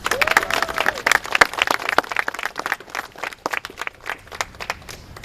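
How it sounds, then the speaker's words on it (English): Outdoor protest crowd gathered against a DACA decision breaks into scattered clapping and cheers, a dense patter of hands with voices calling out over it, steady for several seconds before thinning. "I just want to give you guys a round of applause for yourself for coming out today."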